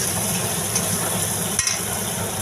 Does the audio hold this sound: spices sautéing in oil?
yes